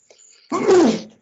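A single sharp sneeze bursts out in a council planning committee meeting room, short and fairly close, preceded by a faint intake.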